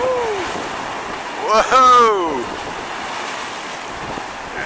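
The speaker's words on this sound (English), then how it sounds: "Look at those waves." Ocean waves surge and wash along the rocky shore at Koko Head, a steady roar of surf mixed with wind buffeting the microphone, while a person exclaims briefly in the middle.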